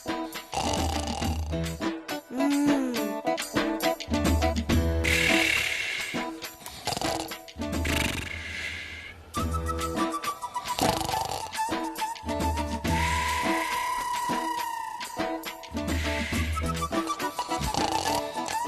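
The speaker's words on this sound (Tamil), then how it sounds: "இவ்வளவு சத்தமா கொரட்டை விடுறது?" Loud, rasping snores repeat in slow cycles of rumbling breaths, with brief pauses between them and some background sound mixed in.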